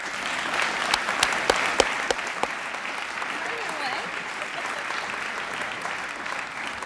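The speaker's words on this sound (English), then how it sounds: "Please join me again in a round of applause for this year's graduating seniors." Banquet audience applauding graduating seniors at an entrepreneurship center event, a sustained, lively round of clapping with a few sharp, close claps standing out early before the applause settles into an even roar.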